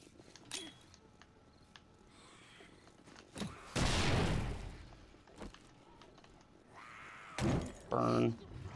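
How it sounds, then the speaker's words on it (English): Explosions and gunfire in the zombie survival game 7 Days to Die during a horde night, several loud broadband blasts around the middle and end, with quieter sharp shots in between. "Alright, it's time for some explosions."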